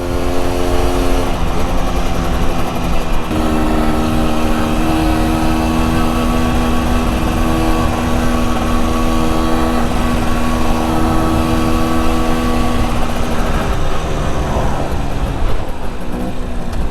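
An MZ TS125 motorcycle engine drones steadily while riding, a loud continuous two-stroke note holding a fairly even pitch with slight shifts, and wind noise throughout.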